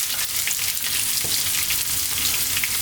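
Onions frying in a pan for a vegetable curry give a steady, loud, dense sizzle throughout, with faint stirring movements underneath and no talking.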